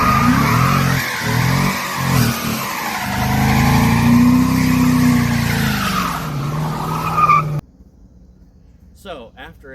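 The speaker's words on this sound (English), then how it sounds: "after a very brief practice burnout session, I am showing belts on the tires here" A car doing a tire burnout held with a line lock: a loud, close engine revving with screeching, squealing tires for several seconds, then cutting off abruptly into near silence.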